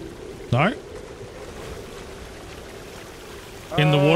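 Steady broadband rush of a waterfall in the Sons of the Forest game, continuous and moderate in level, with brief voices talking at the start and end.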